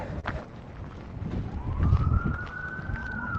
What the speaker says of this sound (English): multiple sirens